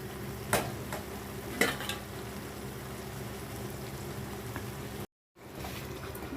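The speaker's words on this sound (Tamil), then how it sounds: "நம்ம ஊற்றிருக்க எண்ணெய் வந்து பிரிஞ்சு வர அளவுக்கு கொஞ்சம் கொதிக்கட்டும்" A pan of garlic chilli chutney bubbles and sizzles steadily with a soft, continuous crackle, broken by a couple of brief stirring scrapes and a short silent gap near the end.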